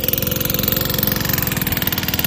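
A small engine on a fence-building job runs roughly, its steady rapid chugging pulse loud and close, faltering as it struggles to rev and begins dying down.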